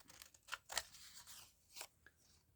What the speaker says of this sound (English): I don't really want the border, so I'm cutting the border off.